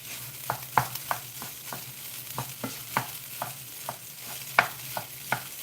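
Hash browns sizzle in a frying pan with a steady, moderate crackle, punctuated by occasional sharp scrapes and taps of a utensil stirring or turning them; no one speaks.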